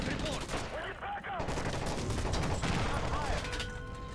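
Rapid bursts of gunfire crackle during a plane hijacking in the Call of Duty: Modern Warfare 3 video game, dense and loud, with shouting voices mixed in.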